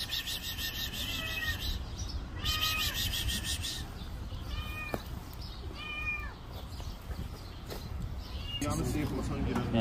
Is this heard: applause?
no